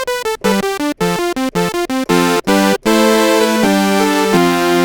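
A thick, buzzy low sound from the DAWJunkie Menace software synthesizer plays a choppy sequence of short notes, then holds longer sustained tones, loud and alone.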